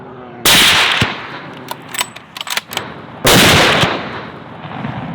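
Rifle shots fired during a bear hunt, with two loud, sharp blasts a few seconds apart. A cluster of smaller bangs and clatter sits between them, close and dominant, and there is no talk.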